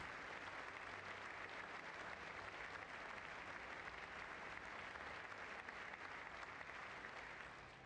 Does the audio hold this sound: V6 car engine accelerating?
no